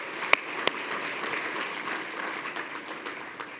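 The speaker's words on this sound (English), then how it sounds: "let's give them a round of applause for their work" Conference audience at a World War II history conference opening gives a round of applause, a steady wash of moderately distant clapping with a couple of sharper claps early on.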